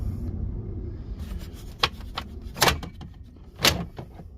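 Plastic trim panel beneath the steering wheel of a Chevy Cobalt SS being pried and pulled off, giving a few sharp close clicks and pops spaced over a few seconds against quiet cabin background.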